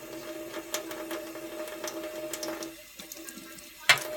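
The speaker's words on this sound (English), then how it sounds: "Rinse the soap off." Tap water running over a makeup brush to rinse off soap, a steady close trickle with a faint electrical hum underneath and a sharp splash or clatter near the end.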